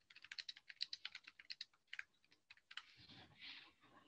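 A note is typed on a computer keyboard in a quick, steady run of soft key taps that thins out into scattered clicks and a faint rustle, all quiet and close.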